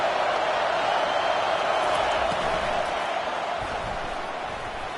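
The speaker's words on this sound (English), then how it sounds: "Decibels rising as the crowd gets behind this defense on 3rd down." A stadium crowd at a college football game roars steadily on a third-down defensive play, a loud, continuous wall of noise that holds evenly throughout.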